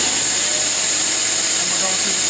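An LPKF Protomat C100HF PCB milling machine drilling with a bit gives a loud, steady high-pitched spindle whine with a constant mechanical hum underneath, unbroken across the whole stretch.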